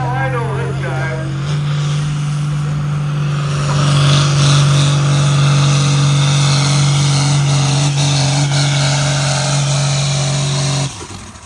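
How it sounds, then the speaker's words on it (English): At the Cuba City ECI tractor pull, a Light Limited Super Stock tractor's engine roars under load with a loud, sustained droning hum that builds slightly and then cuts off near the end, while people talk over it. "That's right, we're at a tractor pull."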